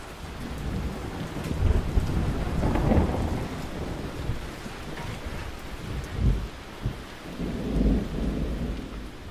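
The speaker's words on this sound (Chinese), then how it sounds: "突然下这么大雨" Heavy rain pours steadily while thunder rumbles low and heavy several times, swelling and rolling away between peaks, with no voices.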